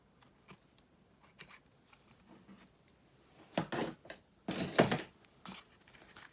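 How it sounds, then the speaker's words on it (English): Scissors trimming the end of a ribbon for a paper mini treat bag: a few soft early snips, then a cluster of sharp, close cuts, quiet and isolated with no talk. "We're just going to trim that end up too."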